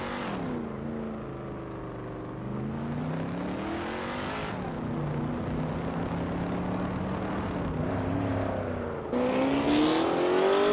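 Engine of a 1972 Lola T290 race car in a racing video game, a sustained loud drone with rising and falling pitch as it revs and shifts, with a sharper surge near the end.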